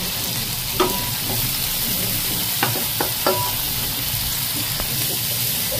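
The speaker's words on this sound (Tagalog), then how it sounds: "habang sinusutuin natin" Garlic sautéing and being stirred in a pan for Filipino dinakdakan, a steady sizzle with several sharp clinks and scrapes of a utensil scattered through, close and moderately loud, no talking.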